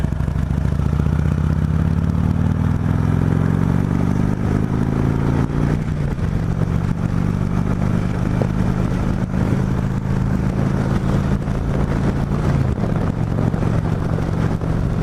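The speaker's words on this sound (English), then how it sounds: "a big old V-twin touring bike." A Harley Davidson V-twin touring motorcycle riding along, a loud continuous engine rumble with the pitch shifting as it changes speed and gears, heavy wind noise throughout and no voices.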